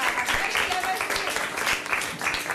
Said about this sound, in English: so clap your hands for yourself for the second time